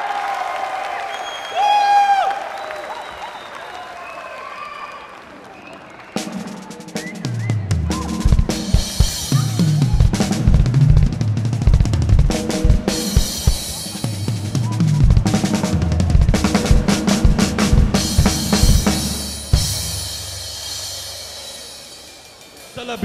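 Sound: audience applause at concert

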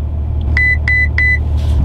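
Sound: Ferrari F12 TDF beeping as ESC is switched off

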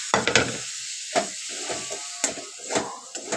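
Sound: soaked paneer added and stirred into sizzling masala

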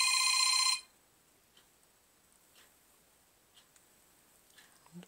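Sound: Droid RAZR phone ringtone playing

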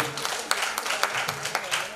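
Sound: audience applause for singer

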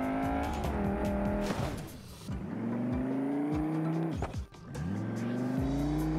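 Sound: modded RS car driving and crashing in BeamNG Drive video game

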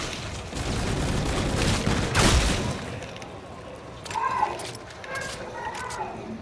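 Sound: gunfire shooting zombies in video game Call of Duty Infinite Warfare

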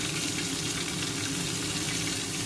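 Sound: eggplant frying in oil with dried chili and panch phoron

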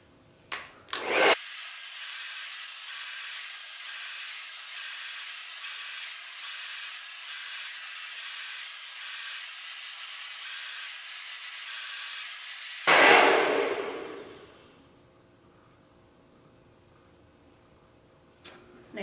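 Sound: hair dryer blowing hair during blowout

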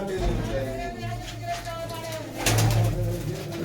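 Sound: pigeons cooing at a pigeon keeper's loft

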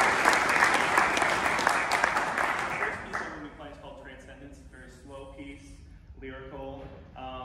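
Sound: round of applause

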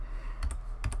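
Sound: typing on a computer keyboard

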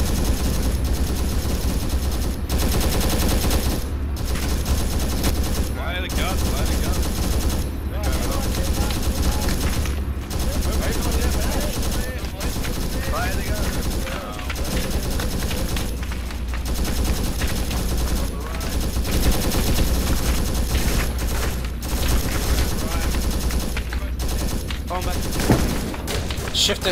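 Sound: gunshots

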